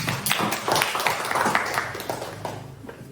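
Classroom clapping from a group of students, a scattered run of hand claps lasting a few seconds, fairly close and moderately loud with faint voices mixed in.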